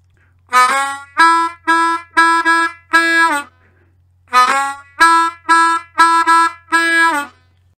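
A blues harmonica repeats a song phrase twice: each pass is a run of five clipped, buzzy notes, separated by a short pause, played loud and close with a faint hum underneath and no voices.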